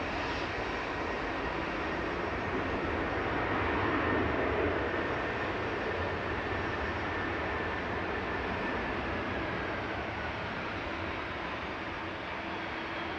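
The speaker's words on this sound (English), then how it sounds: "Just touching down from JFK's flight 44 for Aer Lingus UK." An Aer Lingus UK airliner lands at Manchester after a flight from JFK, its engines a steady, fairly loud roar with a thin whine that swells slightly midway and then eases, with no voices.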